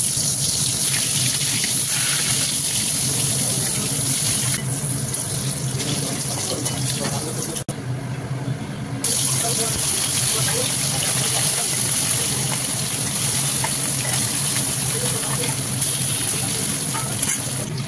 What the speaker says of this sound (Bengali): বেগুনটা আগে ভেজে নিই